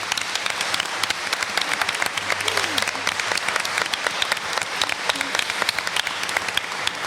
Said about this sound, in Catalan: aplaudiments